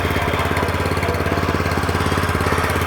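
A GTM GH-7/100 walk-behind tractor engine runs steadily in reverse gear, a loud, close, rapid mechanical chugging with constant pulsing and no voices.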